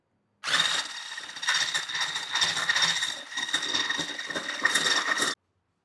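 Electric hand mixer whirring steadily while beating meringue for a chiffon cake as sugar is added little by little, a dense buzzing drone with small fluctuations that starts abruptly and runs close and continuous.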